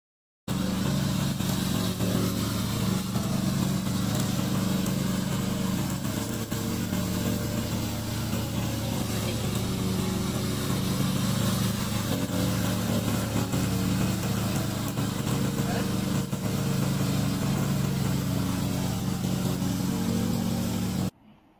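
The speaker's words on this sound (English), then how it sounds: "This is our remote controller mower." A gasoline-electric hybrid commercial remote-controlled lawn mower with sharp mowing blades runs steadily for about twenty seconds, its engine giving a loud, continuous buzzing drone close by before it cuts out at the end.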